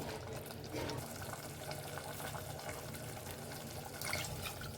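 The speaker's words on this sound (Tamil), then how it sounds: "இந்த கப்பில் 1 கிளாஸ் தண்ணி ஊற்றிக்கலாம்" Water is poured into a pan of village-style pomfret fish curry, a steady splashing pour heard close and alone for a few seconds.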